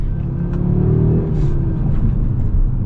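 A 2023 Audi RS3 accelerates hard, its engine a loud, steady rumbling roar that holds close and continuous for the whole stretch, with no voices over it.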